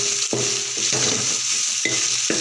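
Ridge gourd cooked with a pinch of turmeric sizzles in a pan for a South Indian chutney, with a steady frying hiss broken by four close, distinct scraping stirs of a spoon.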